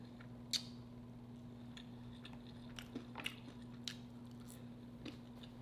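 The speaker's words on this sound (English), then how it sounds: "I like how it's crunchy on the outside of the bread" Someone bites and chews crunchy keto cheesy bread at a spaghetti-and-meatballs meal, with sparse, faint crunches and clicks over a low steady electrical hum, close to the mic and with no talking.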